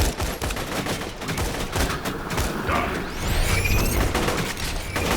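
Loud, dense gunfire fills the scene from Borderlands 2, a weapon firing in five-round bursts with a 27-round magazine, repeated crackling shots over constant game noise and an incoming enemy.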